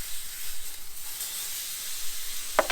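A lean steak cooks in an oiled frying pan with a steady, soft hiss of sizzling throughout, and a brief sharp click near the end.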